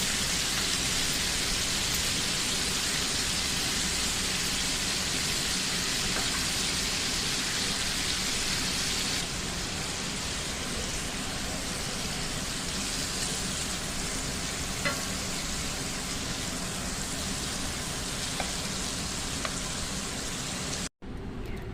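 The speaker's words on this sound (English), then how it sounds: "what I'm doing here is just going to soften them up in that olive oil that I used for the roast" Vegetables soften in the olive oil left over from a slow-cooked pork roast, producing a constant even crackling sizzle like light rain that runs on steadily with no talk, then cuts off abruptly near the end.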